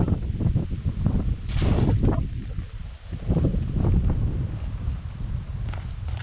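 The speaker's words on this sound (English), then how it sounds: "So it got a bit blowy" Strong wind gusts at an outback Queensland gorge campsite roar steadily across the microphone, rising and falling in buffeting waves for several seconds, with no voices.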